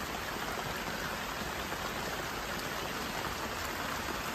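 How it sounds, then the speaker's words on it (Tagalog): Steady rain falls heavily and evenly, a dense hiss of drops on surfaces with no pauses and no voices. "At saka yan. Ulan na."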